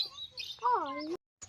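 Lovebirds in an aviary give a string of sharp, high chirps and a rising whistled call, close and fairly loud, ending in a brief gap and one more short chirp.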